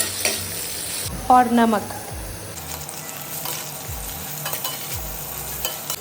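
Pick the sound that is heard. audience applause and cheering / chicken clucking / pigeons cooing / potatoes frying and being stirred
potatoes frying and being stirred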